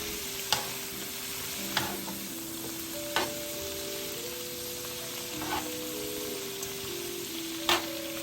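Steady broadband sizzle of green beans stir-frying in a pan, with occasional sharp clacks of a utensil stirring and scraping, and a faint hum underneath.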